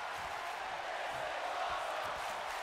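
A wrestling arena crowd in Los Angeles in WWE 2K19 sends up a steady, dense roar of cheering, with a broad wash of voices and faint whoops under a commentator's talk.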